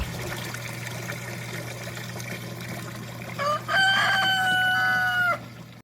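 A rooster crows close by in a garden beside a pond waterfall fountain, its drawn-out call rising over a steady trickle of falling water in the second half.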